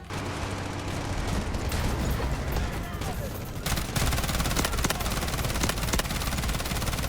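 Rapid automatic gunfire from the fastest-firing gun in the shooter game Delta Force, a dense unbroken rattle of shots loud and close throughout, with brief changes in texture partway through.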